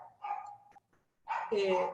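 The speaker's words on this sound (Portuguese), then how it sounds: "A cachorrinha não quer parar de latir." A small female dog barking indoors at home: two short yappy barks, the second longer and more whiny, loud and close, with a voice speaking at the same time.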